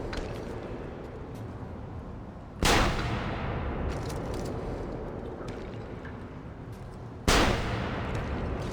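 Two sharp, loud gunshot blasts from Assassin's Creed Revelations gameplay, each followed by a rumbling, decaying tail, over a steady roar of battle ambience.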